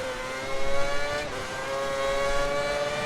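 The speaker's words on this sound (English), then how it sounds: "Accelerate quite early out of this bend." Formula 1 car in the F1 2010 video game accelerating out of a bend at the Hungary circuit, a high-pitched engine whine climbing steadily in pitch, continuous and loud with no talking.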